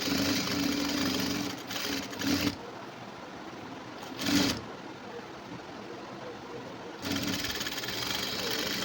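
A sewing machine stitching a blouse sleeve for a high-neck blouse runs in steady mechanical bursts, loud and close, stopping for a couple of pauses in between.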